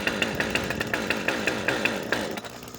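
A computerized chainsaw engine at fast idle runs close and loud with a quick, even, pulsing putter, holding steady for a few seconds before easing slightly.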